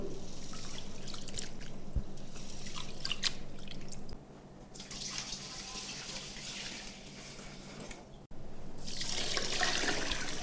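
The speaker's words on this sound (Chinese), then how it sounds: "洗糯米的时候给它搓一搓，这样做出来的糍粑才能白亮。" Glutinous rice being washed and rubbed by hand in water, a continuous close wet swishing and trickling with a quieter stretch midway before the sloshing picks up again.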